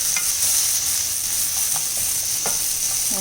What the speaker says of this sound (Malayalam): അതിലേക്ക് തന്നെ ഏത്തക്ക ഇട്ടിട്ട് വഴറ്റിയെടുക്കാം.